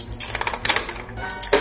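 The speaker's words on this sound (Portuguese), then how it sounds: "Vou estourar mesmo o estilete." A box cutter slicing through plastic toy packaging holding a NECA Godzilla 1989 figure, a quick series of sharp snapping, crackling bursts at close range with no talk.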